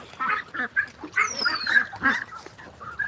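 Ducks at a duck farm quack and honk in a busy, overlapping chorus of repeated calls, loud and close throughout.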